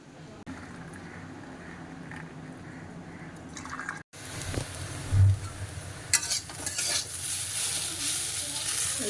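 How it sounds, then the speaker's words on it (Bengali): Potatoes frying in a home kitchen pan, a soft steady sizzle with occasional drips and stirring scrapes, growing louder and brighter partway through, heard close with no talk over it. "আলু ভাজা বানাচ্ছি।"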